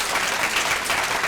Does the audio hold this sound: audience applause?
yes